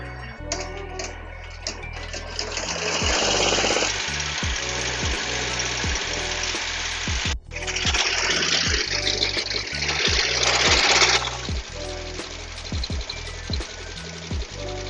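An embroidery machine stitches a hat, a loud rapid mechanical chatter of needle strokes with a brief pause midway, close up and continuous, with no talking.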